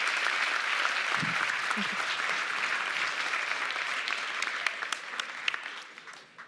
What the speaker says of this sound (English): Once again, big applause.